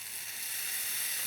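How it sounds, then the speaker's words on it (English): Cooking cream boils in a pan with a steady, soft bubbling hiss and sizzle, close and continuous with no other sounds. "So that's boiling now"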